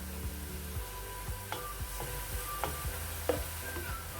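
Onions browning in oil in a pan for egg kofta curry, giving a steady close sizzle with a few soft stirring scrapes and clicks, no voices.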